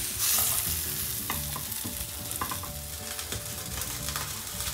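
Jackfruit pieces frying in hot oil, with a dense continuous sizzle and bubbling, close and fairly loud, plus occasional stirring scrapes and no talking.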